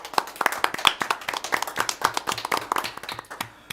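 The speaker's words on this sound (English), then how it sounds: "let's give her a little round of applause" A small audience at a school board meeting claps for a departing school district staff member, a brief, light patter of separate hand claps at moderate distance.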